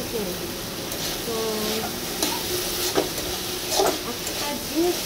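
Carrots and potatoes fry in a pan with a continuous sizzle, broken by scraping stirs and clinks, while a voice talks over the cooking.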